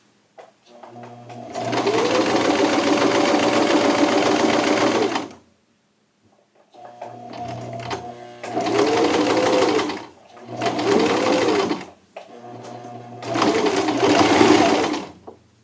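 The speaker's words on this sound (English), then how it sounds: "I'm going to sew my stitch at a curve to end here at the top of the split" A sewing machine stitches a curved shirt seam in four loud bursts of fast whirring, the first long and the rest shorter, separated by brief pauses of near silence.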